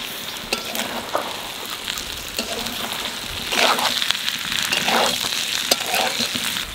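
Potatoes and raw jackfruit sizzle and fry with mutton keema in a pan, a steady crackling hiss with occasional stirring scrapes, close and fairly loud with no talking.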